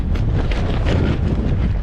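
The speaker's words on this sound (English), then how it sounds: "And it's very windy." Strong wind buffeting a microphone on the exposed top of Great Dun Fell, a loud, steady roar with low rumbling gusts throughout and no speech.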